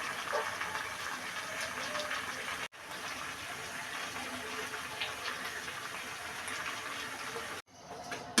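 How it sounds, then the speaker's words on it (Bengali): Water pours into a pan of fish curry with bitter gourd, producing a steady, fairly faint rushing hiss that runs continuously, broken by two brief cuts. "এখন জল দিয়ে দিব"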